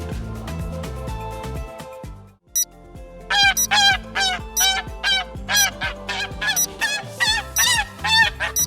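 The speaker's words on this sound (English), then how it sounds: "It's a goose." Goose honking in a quick series of loud, near, nasal calls, repeated irregularly after a brief silence and preceded by a dense mix of other farm animal sounds.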